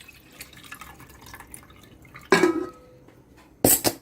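Water is poured off buffalo-milk cream while washing it for homemade ghee. Faint drips are followed by two short, close splashing gushes of water.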